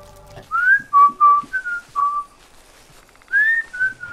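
A person whistles a short tune at night in a forest, several clear tonal notes in a rising and falling pattern with a pause before two final notes, close and alone.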